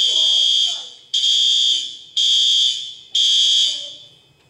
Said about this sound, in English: set the alarm off here right now